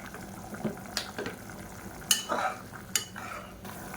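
Soft bubbling and gentle pops from a pot of rice mixture on the boil, close and quiet, with irregular small splashes.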